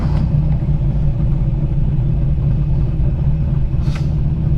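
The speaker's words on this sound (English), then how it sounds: "And we're gonna start the car." A manual stick-shift car's engine runs steadily close by, a loud continuous low rumble with a brief higher whine near the end and no talking.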